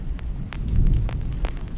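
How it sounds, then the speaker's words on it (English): Summer thunder rumbles low and heavy in a storm. A deep roll swells in the middle, with scattered crackles and patters above it and no voices. "The sound you hear is summer thunder."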